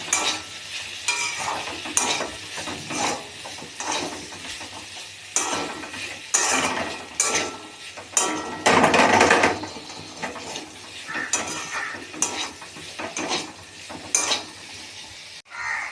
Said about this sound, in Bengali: আদা দিয়ে আবারও একটু নেড়ে নিলাম